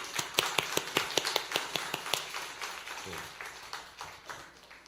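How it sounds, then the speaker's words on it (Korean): A church congregation applauds during a Sunday service, loud uneven claps packed densely at first, then thinning and fading toward the end. "그래, 박수 한번."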